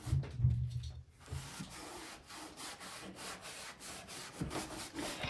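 A DIY clear wax coat rubbed onto a piece of furniture, producing a soft, steady scrubbing and brushing with regular strokes, close and fairly quiet after a brief low thump at the start.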